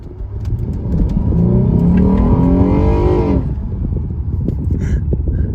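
A car accelerates hard on a quick pull through a residential neighborhood, its engine note rising loudly and steadily for about three seconds before easing off into a lower idle-like rumble.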